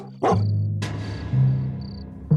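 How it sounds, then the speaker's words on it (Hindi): A dog barks in a few sharp, loud bursts spaced across a cartoon scene, with a tonal hum running underneath and no talking. "उन पर एक कुत्ता भौंकने लगता है"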